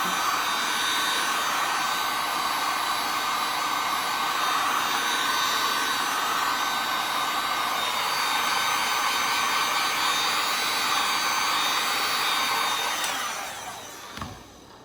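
A heat gun blows hot air over poured acrylic paint to soften it for peeling, a steady loud whirring roar that holds for about thirteen seconds and then winds down, with no talking.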